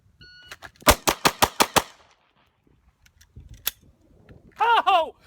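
A handgun fires a quick bill drill of six rapid shots, sharp and close, then a single later shot. A short voiced exclamation follows near the end.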